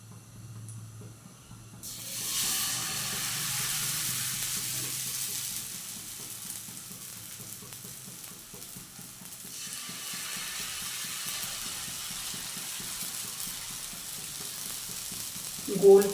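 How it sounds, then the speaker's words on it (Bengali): Oil is spread with a spatula across a hot tawa griddle on a gas flame, producing a sudden swelling sizzle that fades, then rises again into a steady hiss with faint scraping. "এবার আমি খুন্তি দিয়ে এটাকে তেলটাকে চতুর্দিকে চালিয়ে দিচ্ছি"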